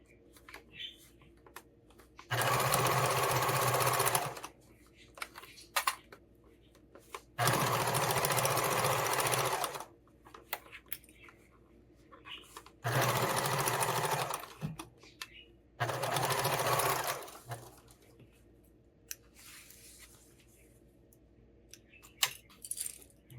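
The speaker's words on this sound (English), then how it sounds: "so I can sew this part straight." A sewing machine stitches a tool storage roll near a zipper in four loud bursts of steady whirring, each lasting about two to four seconds, with quiet handling pauses between them.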